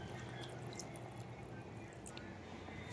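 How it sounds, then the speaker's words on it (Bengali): Water poured into a pot of mutton and potato curry, a soft, faint, continuous trickle with small splashes and drips, close by and without talk. "এরপর আমি এখানে ফাইনালি বন্ধুরা জল অ্যাড করছি।"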